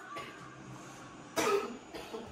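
A person coughs nearby: a short cough, a louder harsher burst in the middle, and a brief third one at the end over a quiet room.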